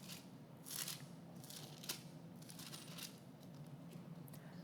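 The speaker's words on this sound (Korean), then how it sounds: "책장 넘기는 소리가 들립니다" A church congregation turns Bible pages to find Leviticus chapter 3: a scatter of irregular, crisp paper rustles and flips, some overlapping, heard close and fairly soft against a low room hum, with no voices.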